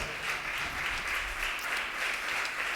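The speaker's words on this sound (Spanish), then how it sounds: "No, alguien tuvo que haber aplaudido a Dios." Church congregation applauding God during a Spanish-language sermon on spiritual gifts of tongues, a steady wash of clapping held evenly throughout, moderately distant and alone without talk.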